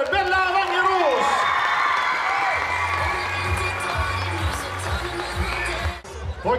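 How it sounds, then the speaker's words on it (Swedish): Applause and cheering from a crowd at a handball club's season-ending event, honouring the club's young leader of the year, steady and loud throughout, with voices mixed in. "Ge en applåder, Bella Wangerås!"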